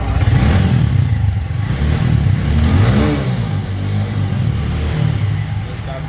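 A 2025 TVS Apache 4V ABS motorcycle engine runs close and loud, with a continuous low rumble that rises briefly as it is revved.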